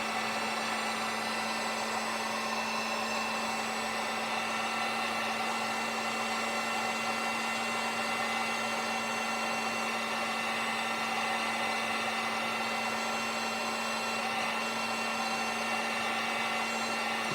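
Hair dryer blowing heat onto a plastic action figure to soften it: a steady, loud whirring hiss with a constant motor hum, running unbroken from start to finish with no talk.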